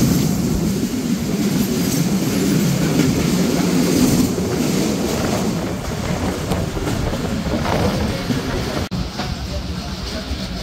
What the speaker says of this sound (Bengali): এই মুহূর্তে আমাদের সাথে ডাবল লাইন ক্রসিং হবে টুঙ্গিপাড়া থেকে ছেড়ে আসা রাজশাহীগামী টুঙ্গিপাড়া এক্সপ্রেসের সাথে